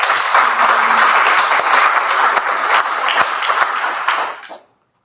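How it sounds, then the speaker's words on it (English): A hospital community town hall audience breaks into dense, loud applause that holds steady for several seconds before quickly tapering off into silence. "Let's have a round of applause."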